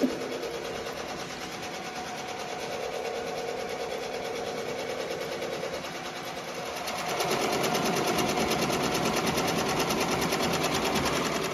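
Ricoma embroidery machine stitching patches, a steady rapid mechanical whir and needle clatter that grows louder and busier partway through, with no talking.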